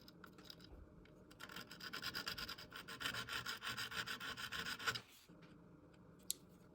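A small hand file rasps across the steel tip of a Forstner bit in quick, rhythmic back-and-forth strokes, close and fairly quiet, for about four seconds before stopping.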